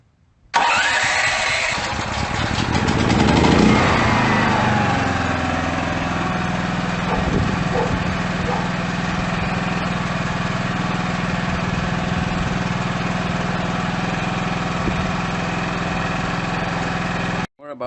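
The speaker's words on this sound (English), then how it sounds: "just press the push button to start the generator" A DuroMax XP13000HX dual fuel portable generator cranks on push-button electric start, catches and settles into a steady, loud mid-pitched engine drone that runs evenly to the end.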